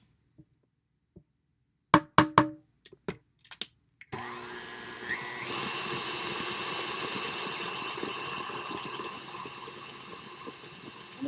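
A few sharp clinks and taps come first, then an electric mixer whirs steadily at close range, blending triple chocolate cheesecake batter in a bowl with a constant droning hum.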